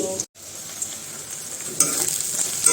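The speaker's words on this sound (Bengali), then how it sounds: "তেলের উপর কালো জিরা ফোড়ন দিয়ে হচ্ছে পেঁয়াজ মরিচ ভাজতেছি এখন" Onions and green chillies frying in hot oil tempered with black cumin, a bright steady sizzle heard close up after a brief gap, with a slight flare near the end.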